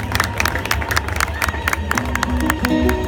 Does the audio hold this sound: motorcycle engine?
no